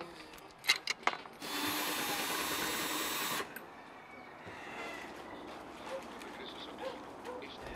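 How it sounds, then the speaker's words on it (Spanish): A brief burst of whirring from an electric drill runs for about two seconds after a few knocks, followed by quieter background noise. "Martín, tráete el taladro"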